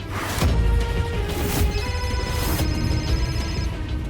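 A telephone ringtone sounds indoors during a Marathi TV serial scene, its repeating electronic tone entering partway through over a loud, busy background with no talking.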